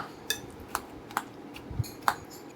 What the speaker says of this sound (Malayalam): നമുക്കിനി സ്പൂണ് വെച്ചിട്ട് തന്നെ ഇതേപോലെ ഒന്ന് കുത്തി കൊടുക്കാം കേട്ടോ